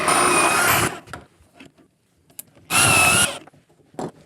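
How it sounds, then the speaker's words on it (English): Two bursts of a power drill backing screws out of a router base for a dog-hole table build, each about a second long and loud, separated by soft clicks and handling noises. "Now I can take the screws out"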